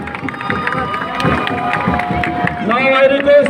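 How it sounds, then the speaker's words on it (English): A crowd claps and cheers at a football tournament closing ceremony, outdoors, with a dense wash of applause, shouts and voices throughout. "big round of applause for all Legends Brothers Association"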